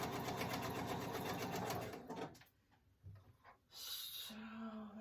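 A sewing machine stitching a composition book cover, a close rapid mechanical whirr lasting about two seconds, then stopping, followed by quieter handling noises and a brief high whine.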